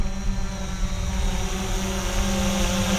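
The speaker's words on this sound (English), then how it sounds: "A neat drone." A HolyStone HS700D brushless GPS camera drone hovers close by, giving a steady, loud propeller whine with a constant low hum throughout.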